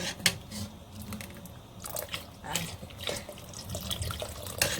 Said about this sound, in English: this is so thick that I gotta add some more water to this.